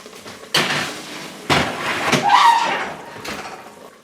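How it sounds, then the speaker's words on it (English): Chuck blade roast pieces tossed in the hot pot of an Instant Pot to brown on all sides: a few sharp utensil clanks and knocks against the pot, spaced a second or so apart, over a faint background sizzle. "I'm going to give those a little toss so we can brown them on all sides"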